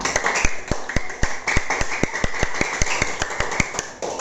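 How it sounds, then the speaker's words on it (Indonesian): Classroom applause for a student, a sharp, rhythmic run of evenly spaced claps, close and fairly loud, sounding like a few pupils clapping in unison over a light background hum. "tepuk tangan dulu buat Andika"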